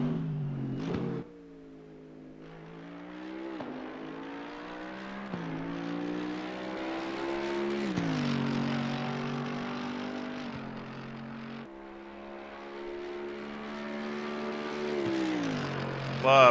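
A Mercedes AMG GT3 Evo race car on Mount Panorama in Assetto Corsa Competizione roars through repeated upshifts, engine pitch climbing and dropping at each gear change, loud and close with a brief lift near the start.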